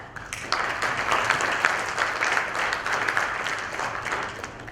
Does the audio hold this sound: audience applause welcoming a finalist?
yes